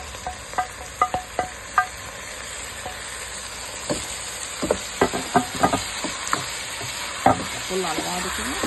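Large-cut chopped tomatoes go into eggplant frying in a pan, giving a steady sizzle broken by repeated stirring and scraping knocks, with a brief spoken remark.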